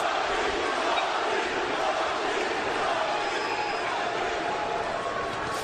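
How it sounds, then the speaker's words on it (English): A dense, roaring crowd cheers without letup throughout an MMA bout between Cung and Fryklund in 2007, a loud, continuous wash of voices with no single speaker standing out. "Listen to this crowd, guys."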